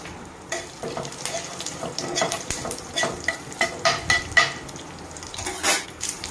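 Oil sizzles and crackles in a kadai as tempering seeds and curry leaves fry, with scattered clinks and stirring scrapes of a utensil against metal, moderately close and steady.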